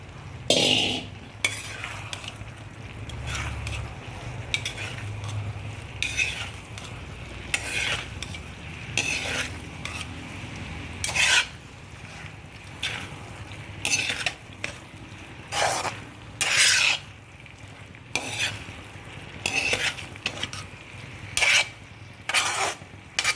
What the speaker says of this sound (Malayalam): ഈ കൂട്ട് ഒന്ന് തിളച്ച് വരാനായിട്ട് തുടങ്ങിയിട്ടുണ്ട്